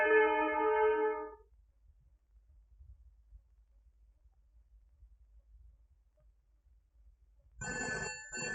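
A telephone bell rings in a loud burst at the start, then the line falls quiet before a second ring bursts in near the end, close and clear with no talk over it.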